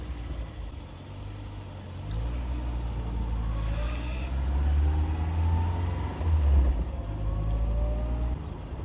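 The 1.9 litre, 91-horsepower engine of a 1970 Peugeot 504 runs nearby with a low rumble. It rises in revs and loudness midway, then settles back to a steady idle, with no talk over it.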